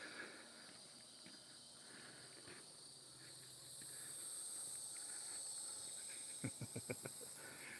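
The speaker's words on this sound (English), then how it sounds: "The cicadas are singing." Cicadas drone steadily outdoors in a continuous high buzzing chorus, swelling slightly midway, with a few brief rustles or steps near the end.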